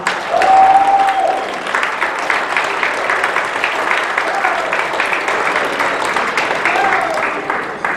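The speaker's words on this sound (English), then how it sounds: "A round of applause for Caitlin." Loud, sustained applause from a crowd, steady clapping filling the room for several seconds.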